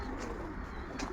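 Breeding pigeons in a loft cooing softly and close by, two short low coos about a second apart over a quiet hum.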